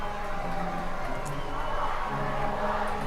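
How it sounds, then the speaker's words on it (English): A high-school football crowd at a Gilmer vs Lindale game, Lindale fans on their feet yelling and cheering for their team, a dense steady roar of many voices filling the stands throughout. "Lindale's crowd is on their feet yelling for their boys"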